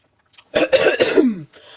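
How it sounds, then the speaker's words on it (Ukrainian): A single harsh cough followed by throat clearing, close and loud, with brief silence before and after. "Вибачте, що я кашляю"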